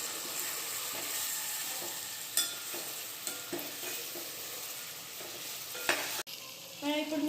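Spices with turmeric and ginger paste frying in a pan give a steady, close sizzle that runs throughout, marked by a few scraping stirs near the end and no talking.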